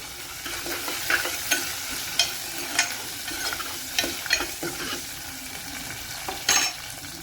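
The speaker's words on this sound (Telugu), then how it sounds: "పచ్చిమిర్చి, క్యారెట్స్ అన్నీ వేసాక ఒకసారి కలపండి." Green chillies and carrots sizzle in a pan for sambar while a spoon stirs them, knocking and scraping against the pan at irregular intervals over the frying hiss. The sound is close and there are no voices.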